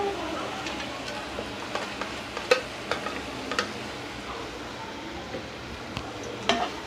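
Carrot halwa being stirred in a pan for a kids' snack, a low soft sizzle broken by occasional sharp spoon clinks and scrapes against the pan, close, with no clear talk.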